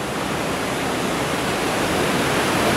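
Mountain water pours steadily into the Aguascalientes hot spring pools near Machu Picchu, a dense unbroken rushing hiss heard up close at even loudness, with no voices.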